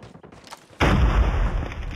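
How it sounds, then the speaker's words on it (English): A grenade explodes in a Call of Duty Mobile Hardpoint match: after a brief stretch of faint clicks and rattles, a sudden heavy blast erupts and rumbles loudly to the end. "Grenade out!"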